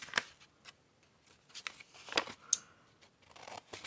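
Scissors fussy-cutting paper embellishments for a junk journal: quiet, close snips and crisp paper rustles in an irregular run of short bursts, with small handling noises between.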